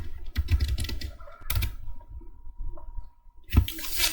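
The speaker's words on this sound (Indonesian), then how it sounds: "Kita ketikkan apt" Someone types a Linux update command on a computer keyboard, with close clicks in short irregular bursts, a quieter stretch with a faint hum, then a louder final keystroke like Enter.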